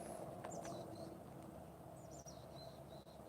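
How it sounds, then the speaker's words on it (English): Birds call in trees along a dusty dirt road, with thin high chirps and whistles over a steady low background hum, faint and intermittent. "the birds up in the trees."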